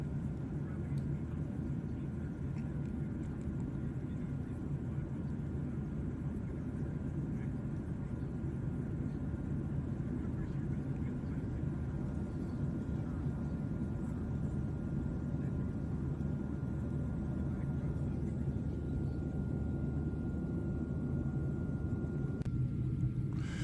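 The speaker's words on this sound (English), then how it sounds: "The drone of those jet engines." Steady low roar of jet engines heard from inside a commercial airliner cabin, a continuous even drone with no breaks throughout.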